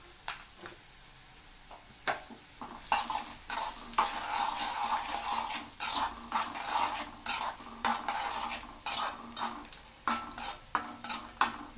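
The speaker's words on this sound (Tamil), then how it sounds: "திராட்சை வந்து நல்லா உப்பி வரணும், அந்த அளவுக்கு நம்ம வறுத்துக்கலாம்" Raisins fry in ghee in a pan for a sweet rice pongal. A steady soft sizzle runs under busy metallic stirring clinks and scrapes that grow denser and louder partway through, with no voices.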